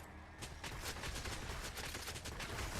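Rapid bursts of gunfire in the video game Damnation, a dense crackling fusillade running continuously and fairly faint, with no talk over it.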